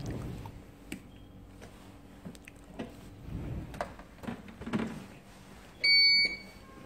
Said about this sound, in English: You're going to hear a beep sound from the machine.